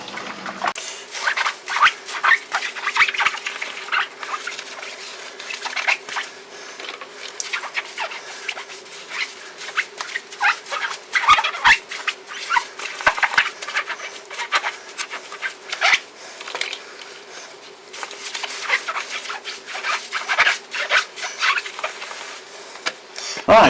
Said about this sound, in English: you've really got to give these a good old scrub around